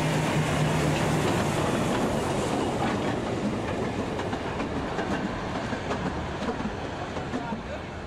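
A Borkum island railway train, hauled by its small Molli locomotive, rolls steadily toward the ferry terminal. It gives a loud, continuous rumble with a faint clickety-clack from the old carriages, heard from on board throughout.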